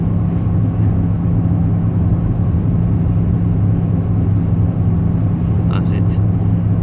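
Alfa Romeo 159 2.2 JTS sport car driving on a main road: a loud, steady low engine drone and road rumble that holds without a break from start to end, with brief faint clicks near the end.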